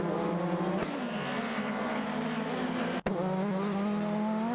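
Race cars in a racing video game, a Ford Sierra Sapphire and BMW 318i among them, engines droning steadily with shifting revs as they overtake, close and continuous, with a couple of sharp clicks.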